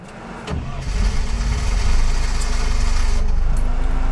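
The engine of a LuAZ off-road car cranks briefly, catches after about half a second and settles into a steady, loud mid-pitched idle with a regular pulsing beat.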